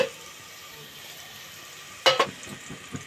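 Curry leaves dropped into hot oil for temple-style pongal, a sudden sharp crackling burst after a quiet stretch, then fading spits and a few small pops.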